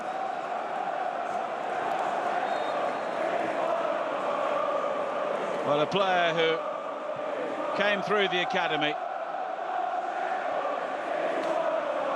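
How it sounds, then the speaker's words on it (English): Coventry City fans chant for Josh Eccles during a Championship match against Plymouth Argyle, a broad sustained stadium crowd roar running throughout under close commentary. "And you can hear the crowd singing, Josh Eccles is one of our own."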